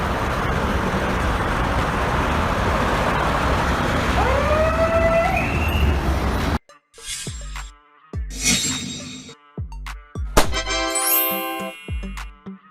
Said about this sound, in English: This is the police car of Croatia